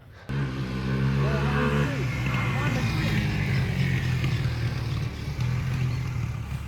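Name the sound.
quad ATV engine running with worn exhaust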